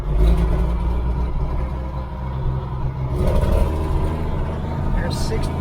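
A semi truck engine running, a loud, steady low diesel rumble with a slight rise in pitch near the middle, close, with someone talking over it.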